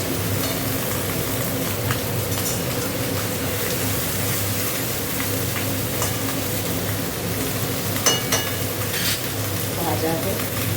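Okra and green chillies fry together in a pan, a dense continuous sizzle with occasional utensil scrapes, over a low steady background hum.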